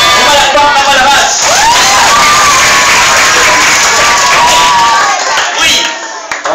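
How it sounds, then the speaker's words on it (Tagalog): An audience at a school puppet show applauds and cheers loudly throughout, with clapping, whoops and children's shouts mixed in as one continuous roar. "Pumalakpak na palabas!"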